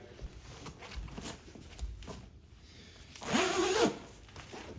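The zipper of a double zip tool bag is pulled in one quick, close, raspy zip near the end, after soft handling rustles and light taps.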